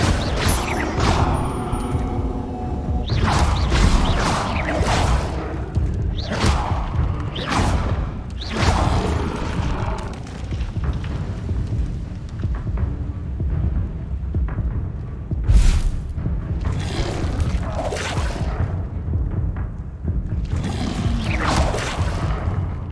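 Incendio fire spells cast repeatedly in the game Hogwarts Legacy, a series of loud whooshing bursts of flame, several in quick succession, over a rumbling background of combat effects.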